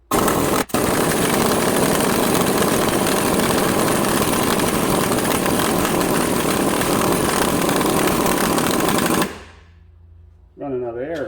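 Air impact wrench hammering continuously on a 2008 Ford Fusion AWD rear wheel bearing, a loud, rapid rattling burst lasting about nine seconds, then cutting out briefly before starting again; a voice is heard in the gap.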